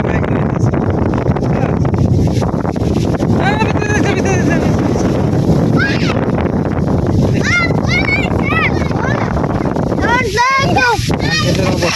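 Strong storm wind roars over rice paddies during a sudden squall, a loud continuous rush with microphone buffeting, while people talk intermittently over it.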